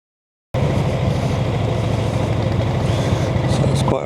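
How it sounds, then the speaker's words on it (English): A 1925 Brough Superior SS100 motorcycle engine runs, starting abruptly and holding a steady, loud, close throb with no pauses. "The push rod pushes up against the rocker, and the rocker pivots and pushes the valve down, and the engine runs."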